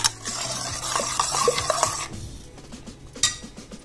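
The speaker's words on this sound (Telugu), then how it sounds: "కాజు, బాదం పేస్ట్ మిక్సీలో వేసిన తర్వాత ఈ గ్రేవీలో వేసి మిక్స్ చేసి ఇస్తున్నాం" A spoon stirs cashew and almond paste into mutton gravy in a pot, making quiet scraping and light clinks over a faint simmer, close and soft.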